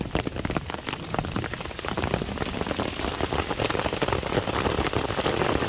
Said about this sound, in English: Getting some hail.